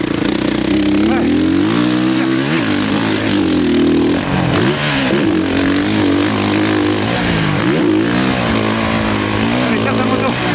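A 450 dirt bike rides in sand, its engine loud and close, rising and falling in repeated revs and gear changes for the whole stretch.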